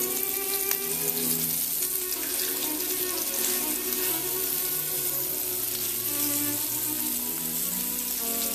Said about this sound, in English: put a copious amount of flour on our veal fillets, and we're going to add them directly to this hot, oily pan